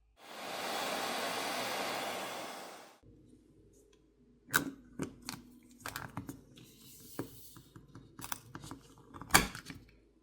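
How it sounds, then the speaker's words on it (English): A hairdryer blows steadily for about three seconds, heating a plastic phone backplate, then stops, followed by scattered clicks and small handling taps. "I prefer to use a hairdryer"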